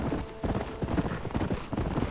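Horse hooves galloping in the Western video game Red Dead Redemption, a fast, loud, close rhythmic clip-clop of pounding hoofbeats repeating steadily throughout.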